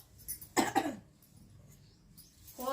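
Two quick coughs close by near the start, with a kitchen backdrop during a meal of spicy egg curry, followed by a fainter throat sound.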